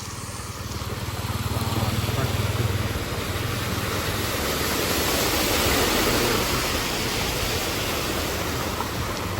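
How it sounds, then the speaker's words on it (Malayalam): A Land Rover Defender SUV rumbles through deep floodwater, its engine drone blending into a loud, continuous rushing splash that swells and holds. "ഒരു ഡിഫൻഡർ വരുന്നുണ്ട് ഡിഫൻഡർ വെള്ളത്തിൽ കൂടെ പോകുന്നത് എങ്ങനെയാണെന്ന് നോക്കട്ടെ"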